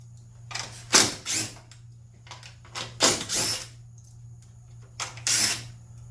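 A 10mm socket wrench backs out grille bolts on an F150 pickup, producing several short bursts of ratcheting clatter separated by quiet gaps over a low steady hum.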